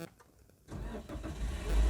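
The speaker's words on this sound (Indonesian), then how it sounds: "Jika kita nyalakan mobilnya, kita tekan seperti tadi" A manual car's engine cranks and catches after a quiet moment, then settles into a rising, steady idle rumble close by.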